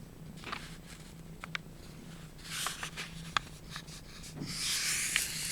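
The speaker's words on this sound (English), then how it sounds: "Crease it in the middle and just go out to the sides." A sheet of legal-size paper is folded and creased by hand, giving quiet, intermittent rustles and soft scraping swipes that grow louder toward the end.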